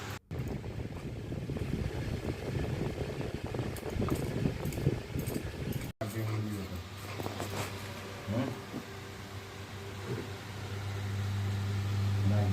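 A small mixer grinder grinding rice, a loud, continuous whirring motor roar that shifts to a steadier, deeper hum after a brief cut and keeps running.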